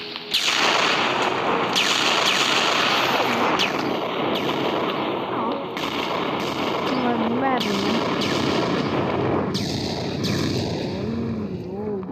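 Gunfire in the Roblox game Toilet Tower Defense, a loud, constant barrage of rapid shots and blasts that runs the whole way through, with a person talking over it.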